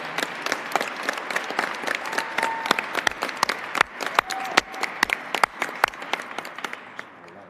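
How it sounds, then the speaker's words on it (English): An audience at an MLK Now 2020 event breaks into sustained applause, a dense crackle of many hands clapping steadily for several seconds at close range. "can y'all give yourselves a round of applause?"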